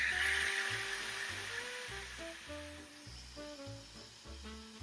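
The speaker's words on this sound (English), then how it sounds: "allow the fat that is on these beautiful chops to render." Fat on pork chops rendering in a cast-iron pan, a steady hiss and sizzle that is brightest at first, heard under background music.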